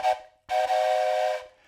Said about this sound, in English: You'll know it's time to open a package when I blow my trusty toy train whistle